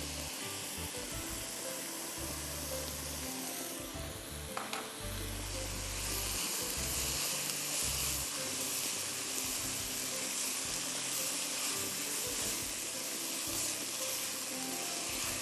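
Flour and onions frying in gravy for chicken biryani, a steady broadband sizzle running close and continuous throughout with low stirring rumbles and a brief clatter of utensil contact partway through.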